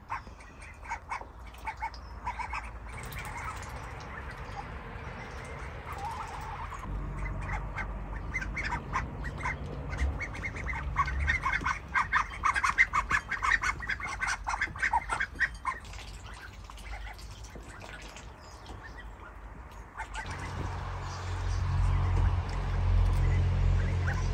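Ducks at a pond quack in scattered bursts over roughly twenty seconds, mixed with rustling and low handling noise, with a brief voice in the background.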